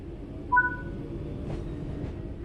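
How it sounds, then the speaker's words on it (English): A train in Train Sim World 4 begins to move, a short two-tone electronic chime sounding over a low steady rumble of the train. "Let's get the train moving and see it all working."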